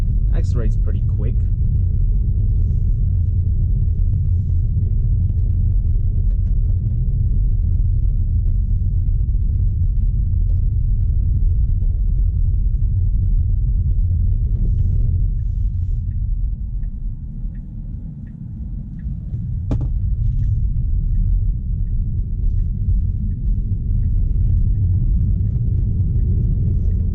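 Tesla Model Y Performance accelerating in chill mode, heard from inside as a steady low cabin rumble of road and motor noise with a brief dip, no talk.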